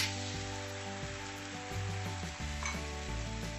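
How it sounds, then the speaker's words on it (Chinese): Pork slices and sweet and sour sauce sizzle in a wok over high heat, a steady close frying hiss under faint scraping stirs, continuous with no talking. "再加入我们的猪肉，把它们搅拌均匀，再搅拌个7、8下。"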